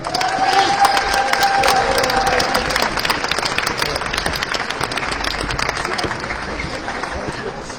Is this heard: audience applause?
yes